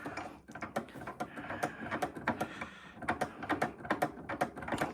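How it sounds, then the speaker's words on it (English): An Allen wrench turns in a sim rig yoke's foot to back out the fastener, making a steady run of small, rapid metallic clicks and ticks that come close and fairly loud, with no voices. "all I do here is I just put our Allen wrench in there. I'm just going to keep turning this around."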